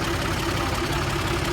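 A 2017 Fiat 480 tractor in good running order idles steadily close by, its engine giving an even, continuous diesel rumble with a faint hum and no breaks or revving.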